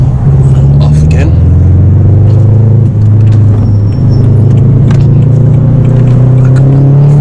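A BMW 1 Series E82 with a six-speed manual gearbox accelerating from inside the cabin, a loud steady engine drone rising in pitch through the gears, with a voice talking over it.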